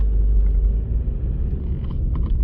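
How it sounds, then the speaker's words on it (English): Car interior road noise while driving into Carlisle: steady low engine and tyre rumble, continuous and fairly loud, with faint intermittent higher rattles and no talking. "I'm driving into Carlisle on the way to work"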